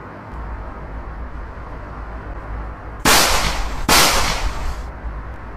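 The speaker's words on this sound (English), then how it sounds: "What are you shooting at?" Two sharp, loud gunshots ring out in quick succession over a low ambient hum in the middle of nowhere, each blast followed by a short, bright decay.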